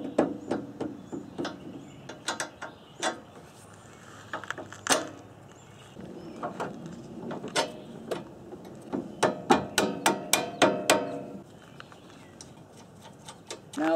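Clanking metal strikes while fitting a Koni Yellow strut insert on a Toyota MR2 Spyder, irregular sharp taps and clusters of knocks spread across a quiet garage with pauses between.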